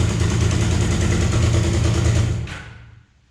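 A Suzuki GS 500 motorcycle engine idles smoothly and loudly nearby, a steady low throb that cuts off about two and a half seconds in and fades to silence.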